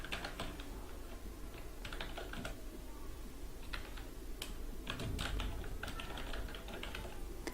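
Steady clatter of typing on a computer keyboard while entering an email address, rapid irregular key clicks running throughout at close range with no voices.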